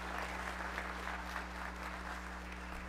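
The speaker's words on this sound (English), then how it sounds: "Let's give God a hand this morning for Zach and his ministry" A church congregation applauds during a Sunday morning worship service, a steady, dense clatter of many hands clapping at moderate distance over a low electrical hum, with no clear voices.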